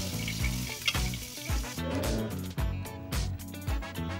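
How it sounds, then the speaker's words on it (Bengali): Brinjal (eggplant) pieces fry in hot oil, turned until reddened for begun bharta, giving a steady sizzle that sits beneath loud, prominent background music. "বেগুনটাকে উল্টে পাল্টে লাল করে ভেজে নিচ্ছি"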